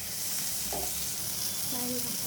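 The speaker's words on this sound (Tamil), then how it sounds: "தக்காளி சேர்த்து ஒரு 2 நிமிஷம் லோ ஃப்ளேமில் வச்சு கிண்டி விட்டுக்குருவோம்" Tomatoes sauté over a low flame for Maggi noodles, giving a steady soft sizzle with a couple of brief scraping stirs of a spoon in the pan.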